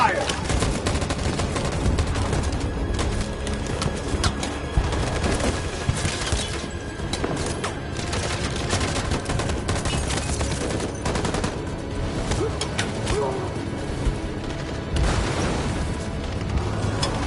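Soldiers' gunfire in Detroit: Become Human: dense, continuous bursts of automatic shots and rattling volleys, loud and close, with heavier booms mixed in. Voices shout over the shooting.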